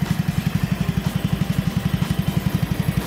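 A Yamaha Majesty 125 scooter engine idles steadily nearby with a fast, even putter, loud and unbroken, no voices.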